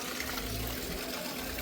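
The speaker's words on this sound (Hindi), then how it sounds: "ये बिल्कुल फ्रेश स्रोत है, तो यहाँ से आप पानी भर सकते हैं, बिल्कुल ठंडा पानी होगा ये।" Cold fresh spring water pours steadily from a roadside mountain source where vehicles stop to fill up, a continuous close splashing rush with no break.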